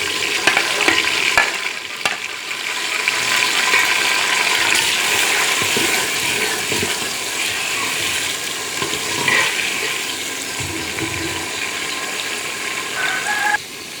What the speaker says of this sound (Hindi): अब हम इसमें टमाटर और सब्ज़ मिर्च डालेंगे।